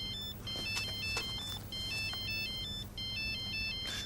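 A mobile phone plays an electronic ringtone in a police drama, a repeating melodic pattern of short beeping tones in bursts separated by brief gaps, fairly clear over a quiet room.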